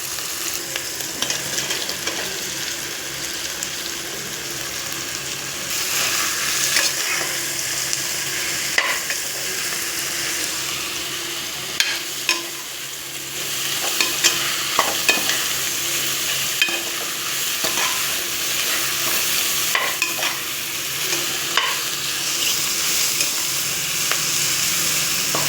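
Chopped mushrooms frying and being stirred in a pan for biryani, with a steady bright sizzle throughout and scattered sharp clicks of a spoon against the pan, growing slightly louder partway through; no talking.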